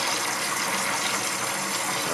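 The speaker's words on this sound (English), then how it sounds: "powering the relay, which sends water into the dish" Water gushes steadily from a relay-switched valve into a self-filling pet water dish, a continuous close hiss and splash that holds even for the whole stretch.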